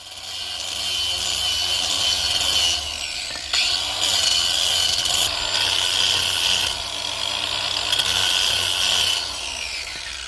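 Sanding a wooden batten by hand during repair of a broken 24MX gazebo, a steady, continuous abrasive rubbing that keeps going for the whole stretch, close and fairly loud, with no talking.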